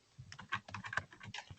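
Rapid, irregular clicking of keys on a computer keyboard, close and fairly quiet, with bursts of keystrokes and no speech.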